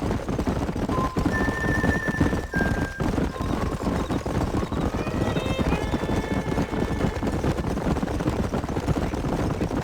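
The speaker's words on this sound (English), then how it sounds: "There's the horses!" Horses galloping, with a whinny, in the Red Dead Redemption video game; continuous rumbling hoofbeats run throughout, with tonal neighing calls rising over them in the middle.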